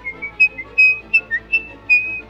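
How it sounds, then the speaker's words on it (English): A whistled rendition of Grieg's In the Hall of the Mountain King, loud, close, staccato notes in a creeping rhythm over a soft low backing, no voices. "the serial killer whistles the tune from Edvard Grieg's In the Hall of the Mountain King"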